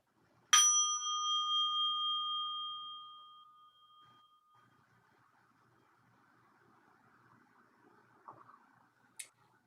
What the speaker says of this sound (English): And with the ringing of the bowl, we now begin our sacred service.